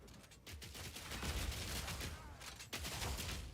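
Mortar lobbing explosive grenades in Path of Exile, with a dense run of overlapping booms and crackling blasts filling the moment at steady loudness, broken by one short gap.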